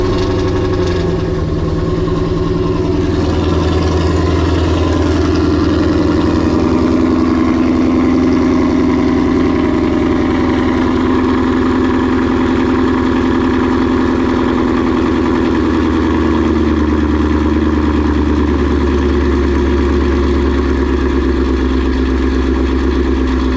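A Whipple-supercharged S550 Mustang GT idles steadily and loudly up close for over twenty seconds, a deep continuous rumble with a constant low drone and no revving.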